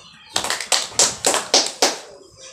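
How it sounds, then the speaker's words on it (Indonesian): A small group claps in about six short, evenly spaced bursts of applause, close and fairly loud, ending after roughly two seconds with no talking. "Baik, kita berikan applause untuk kita semua."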